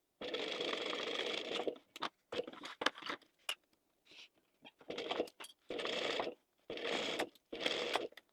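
A sewing machine basting fabric for fish-shaped zip pouches, running in several sustained bursts of whirring stitching, close and clear, with short pauses and small clicks between runs.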